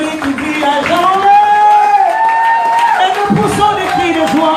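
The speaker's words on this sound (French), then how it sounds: "Poussons des cris de joie." A church congregation at a Sunday service shouts and cries out with joy, a loud sustained crowd of raised voices and whoops with a leading voice rising above them, followed by scattered claps and cheers.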